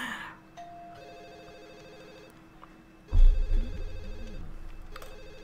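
In The Sims Bustin' Out, a telephone rings with a thin electronic trill under quiet game ambience, followed by a louder burst of in-game noise.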